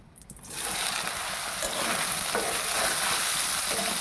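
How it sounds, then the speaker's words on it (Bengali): Soybean chunks, soaked in hot water and squeezed, drop into hot oil and fry with a steady loud sizzle, a faint stir or two breaking through the hiss. "তো এখন আমি এই সোয়াবিনগুলি তেলের মধ্যে দিয়ে দিচ্ছি।"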